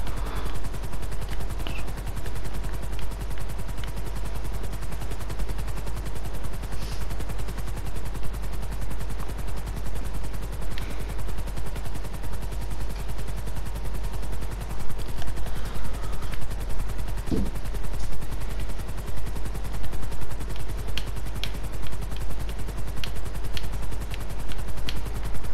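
Minigun loaded with explosive bullets firing alongside a helicopter in the GTA video game, a steady dense rumble of rotor and rapid gunfire running throughout with scattered sharper bursts and blasts.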